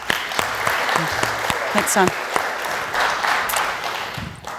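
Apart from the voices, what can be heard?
audience applause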